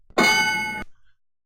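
A single bright bell ding sound effect rings loud and clear, holds for a moment, then cuts off abruptly into silence.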